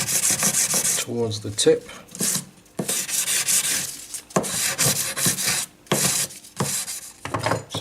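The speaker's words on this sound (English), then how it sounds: "I'll just emery the sides just to get rid of any lines" Emery cloth rubbed along the sides of a steel graver being made and polished, giving loud repeated rasping strokes in bursts with short pauses, with a person speaking briefly.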